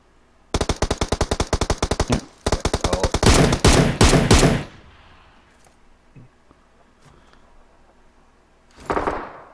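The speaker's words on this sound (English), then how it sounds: "There's shots over there." PUBG Mobile gunfire: rapid automatic bursts of sharp shots rattle in quick succession, then a louder cluster, followed by quiet and a short final burst.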